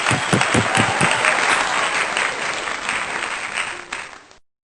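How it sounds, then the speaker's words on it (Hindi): Church congregation at an online Sunday worship service applauding, a full, lively burst of clapping from many hands that thins out and fades to silence near the end. "तालियां।"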